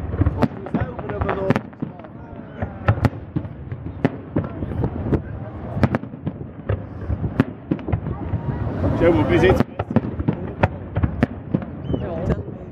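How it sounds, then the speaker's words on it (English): An offshore fireworks display over the sea off the Isle of Man, with a rapid series of sharp, booming bursts and crackles at irregular intervals, dense and loud throughout, set against steady outdoor background noise. "This is how an epileptic watches the fireworks display."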